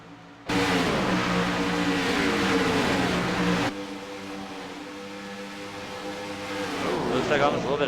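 Race cars roar past in a stock car racing video game at Chicagoland, a loud, steady engine drone that drops abruptly to a lower, continuing hum, with further engine whine building at the end.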